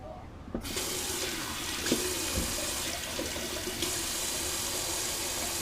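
A bathroom water tap runs steadily to rinse alum off after a shave, a continuous close hiss of flowing water that starts abruptly and carries on to the end.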